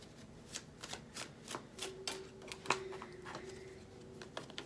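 Tarot cards shuffled by hand in soft repeated riffling bursts with small taps and slaps, close and quiet, with no talking during the clip.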